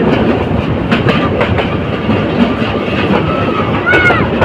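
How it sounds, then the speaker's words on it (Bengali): Parabat Express train rolling on rails between Dhaka and Sylhet, a loud close continuous rumble with rhythmic clickety-clack of wheels and a brief high squeal near the end. "মারাবত এক্সপ্রেস ট্রেনটি আজিমপুর রেল স্টেশনে প্রবেশ করেছে"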